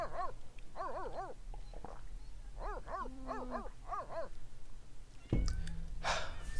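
A pet dog in The Sims 3 lets out a series of short whimpering barks and whines, moderately loud against steady background game ambience, before a sudden thud and clatter near the end.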